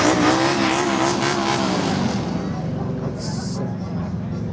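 A Mustang on fat drag radial tires drives past at a Winnipeg car cruise, its engine a loud, rising then fading growl that dominates the scene.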